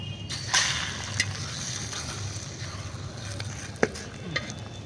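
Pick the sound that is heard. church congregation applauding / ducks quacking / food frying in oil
food frying in oil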